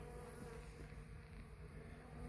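Dense, steady buzzing of many honeybees close at a hive, a continuous droning hum with no pauses and no voices.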